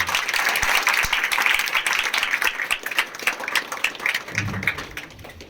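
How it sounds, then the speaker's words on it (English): Audience at a college pharmacy program event clapping continuously, loud at first and gradually thinning out toward the end. "Please keep the clapping going."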